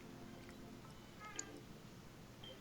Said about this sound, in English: Cat's meowing.